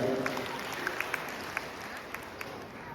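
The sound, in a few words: audience applause for the musicians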